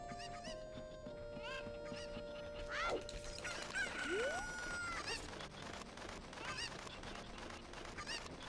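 Chickens in a video game cluck and crow, with squawking and honk-like calls rising and falling over a steady game background; several birds call in turn, fairly close and clear.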